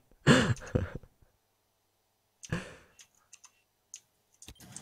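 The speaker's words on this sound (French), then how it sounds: "On entend c'est le clac-clac-clac de ton clavier" Computer keyboard clacking during a Rainbow Six Siege match, a quick burst of several close keystrokes followed by a pause and scattered single clicks.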